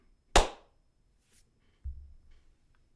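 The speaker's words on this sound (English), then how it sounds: "When I clap, we need a clap." A single sharp hand clap rings out close and loud, followed by a short pause and a dull low thump, in an otherwise quiet space.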